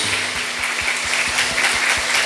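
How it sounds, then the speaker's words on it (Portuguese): A church congregation at a Portuguese-language worship service applauds loudly, a dense, continuous wash of many hands clapping throughout with a low steady hum beneath. "E pode aplaudir o Senhor bem forte."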